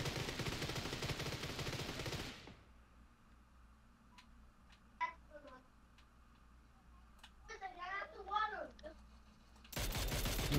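Gunfire in the PUBG console game comes as a few faint, sharp distant shots with some quick bursts, set between loud stretches of talk at the start and end.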